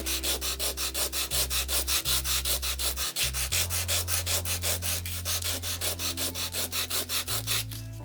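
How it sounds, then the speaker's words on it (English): Sandpaper rubs ink back off an oil painting in quick, even back-and-forth strokes, a close, dry scratching rhythm of roughly three strokes per second with no voices. "I'm going to take some sandpaper and just sand that back."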